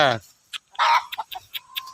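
A village hen gives short clucks and squawks, several quick bursts with gaps between them, close and fairly loud, following an earlier longer vocal cry.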